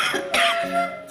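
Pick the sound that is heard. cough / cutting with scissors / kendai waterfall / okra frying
cough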